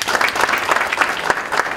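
Conference audience at a keynote address applauding steadily, a brief burst of dense, even clapping from a crowd with no talk over it.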